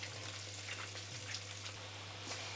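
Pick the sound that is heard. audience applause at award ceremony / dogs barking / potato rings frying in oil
potato rings frying in oil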